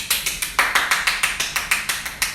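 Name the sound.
clapping, round of applause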